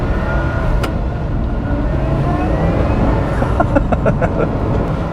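A Lotus Exige Sport 390 Final Edition on an open road, its engine note a loud, steady drone with road and wind roar throughout, rising slightly in pitch near the end, with no talking.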